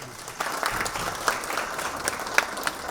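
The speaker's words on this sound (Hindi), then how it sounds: "आपकी तालियां बता रही हैं कि आपको ये संदेश अच्छा लगा है" Applause from the audience at an influencer meet during the Sant Eshwer Samman 2025 event, a steady, moderately distant wash of many hands clapping with a few sharper claps standing out.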